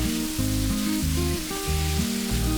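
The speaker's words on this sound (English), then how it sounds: "add the marinated pork meat and fry it for about 5 to 6 minutes on a high flame" Marinated pork frying over a high flame makes a dense, steady sizzle, loud and close, under a bed of background music with changing sustained tones and no talking.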